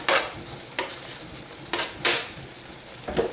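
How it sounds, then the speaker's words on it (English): A spoon stirs jaggery into a tomato curry mix for makhanwala paneer curry, giving a few separate scraping, clinking strokes against the pan over a low sizzle. "And give that a stir and that will all dissolve."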